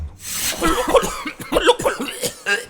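Several harsh coughs burst out in quick succession, close and loud, with a raspy throaty quality between them.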